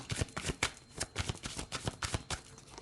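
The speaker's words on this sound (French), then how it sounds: "On va prendre une carte de l'oracle Manara" Manara oracle cards being shuffled by hand, a run of crisp, papery riffling bursts repeating in an uneven rhythm, close and moderately quiet, with no voices.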